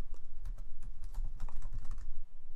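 Rapid keystrokes on a computer keyboard as a command is entered in a terminal, a close, continuous patter of soft clicks with heavier thumps, no speech.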